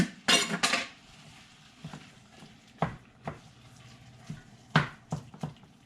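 Meat and onions are stirred in a pan while browning for chili, heard as scattered metallic scrapes and clinks of a utensil against cookware, loud knocks spaced irregularly over a quiet background.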